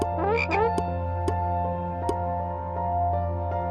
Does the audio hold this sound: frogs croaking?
yes